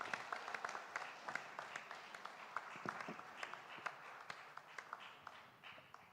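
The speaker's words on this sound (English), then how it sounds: "Let's have a loud applause." Applause from the audience at an alumni meet during a felicitation ceremony, a soft, steady patter of clapping with a few sharper individual claps standing out, fairly distant, with faint voices underneath.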